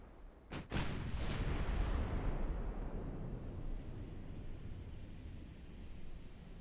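Naval gunfire from battleships in a video game battle, a couple of sharp booming shots followed by a long rumbling roar that slowly decays, loud and close with no voices.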